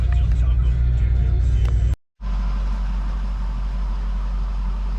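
A 1971 Camaro restomod engine idles in a driveway with a steady, loud low rumble that briefly cuts out, then resumes just as strongly.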